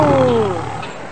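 A person imitates a lion roar with a short, loud, close vocal growl that slides downward in pitch and fades.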